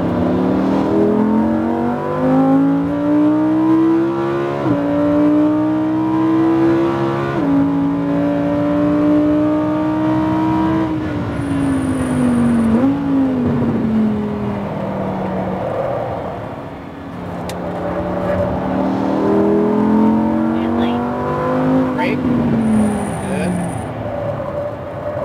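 A Lamborghini Huracan on track laps, its engine note rising and falling through repeated accelerations and shifts, loud and close throughout with an instructor's voice talking over it.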